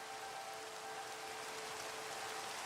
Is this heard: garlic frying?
no